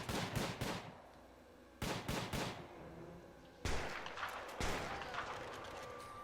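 Gunfire in the prison-management game Prison Architect comes in three separate bursts of rapid shots, each sharp volley trailing off before the next, at moderate loudness with no talking.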